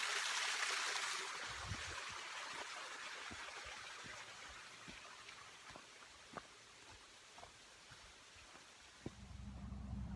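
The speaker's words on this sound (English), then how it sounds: "Little waterfall." A small waterfall on a stream along the Appalachian Trail, a soft continuous rush and trickle of water, faint and steady with a few scattered knocks.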